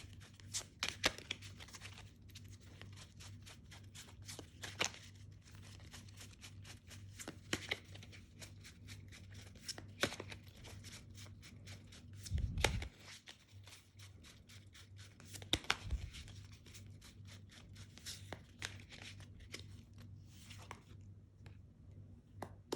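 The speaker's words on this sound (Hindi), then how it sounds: "चलिए कुछ और कार्ड्स निकाल लेते हैं।" Tarot cards being shuffled and laid out, faint papery flicks and soft snaps recurring irregularly, with a few louder handling thumps, heard alone and close in a quiet room.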